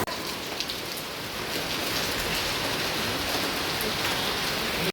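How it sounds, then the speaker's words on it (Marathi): Heavy rain pouring down in a dense, steady hiss of drops hitting surfaces, close and continuous throughout with no voices. "पाऊस पण जाम आले"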